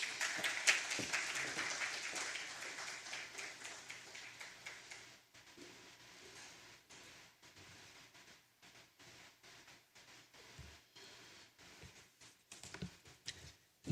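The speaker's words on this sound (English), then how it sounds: "A round of applause for her" Audience applause greeting the administrator before a welcome address, moderate clapping that fades after a few seconds into sparse, scattered claps and a few louder taps near the end.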